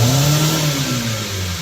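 A 1993 Hyundai Sonata DOHC 16-valve engine with faulty intake temperature sensor and EGR codes revs up close by, its pitch rising and then falling back within a couple of seconds.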